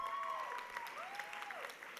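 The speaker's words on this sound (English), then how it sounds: "Let's please have a round of applause for our award winners from LaPenta School of Business." Audience applause for award winners at a university honors convocation, soft and distant, a thin crackle of clapping under a faint whining tone.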